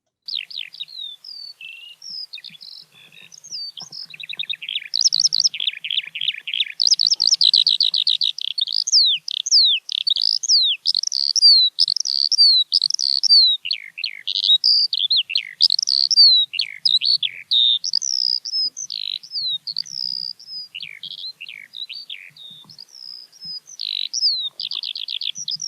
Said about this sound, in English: It's this bird.